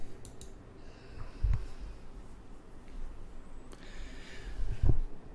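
Two quiet computer mouse clicks, a few seconds apart, are heard during a software installation, against a soft, still room background.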